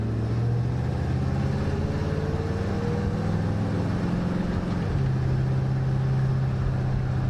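A car fitted with an Aces Killshot EFI fuel injection system runs steadily while driving around the block, its engine a continuous low drone that shifts pitch slightly partway through as it changes speed.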